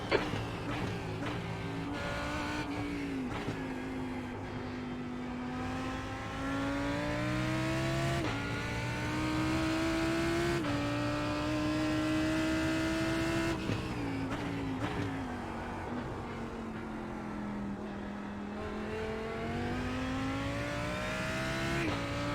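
A Lamborghini race car on cold tires in a racing sim, its engine revving hard up and down through gear changes, with repeated sharp upshifts over a continuous loud, close drone.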